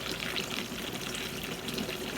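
Water runs in an even, continuous wash through a silicone sluice box mat, a close, moderately quiet trickling and gushing with no voices.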